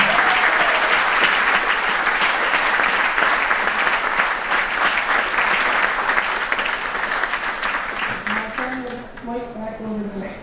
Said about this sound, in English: I'd like to congratulate all of these athletes with one more round of applause